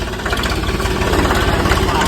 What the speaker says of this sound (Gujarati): તારું ટ્રેક્ટર